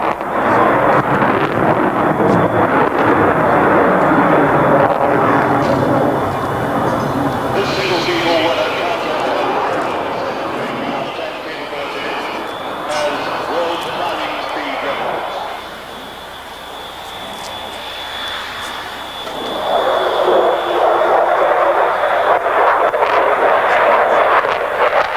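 A Sukhoi Su-27 jet fighter flying a display at the 1989 Paris Air Show gives a long, loud, rushing roar that swells, dips midway, then surges again, with wind buffeting the mic and a voice speaking over it.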